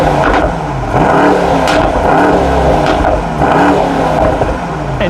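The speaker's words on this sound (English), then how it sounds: "Take a listen to the exhaust in sport mode." A Mercedes-AMG GT 4-Door sedan's exhaust roars in sport mode as the car accelerates hard, loud engine revs climbing through several gear changes, close and alone without talk.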